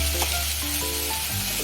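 Food sizzles in a frying pan while it is stirred and a pinch of sugar goes in, for a Bengali Malabar spinach curry. A brief, steady, close hiss of frying carries light scraping from the stirring.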